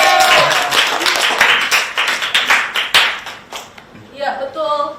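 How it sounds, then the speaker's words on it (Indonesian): A classroom group claps together in a short burst of brisk, close handclaps that thins out and fades, followed by a voice starting to speak near the end. "Pinter semuanya, tepuk tangan."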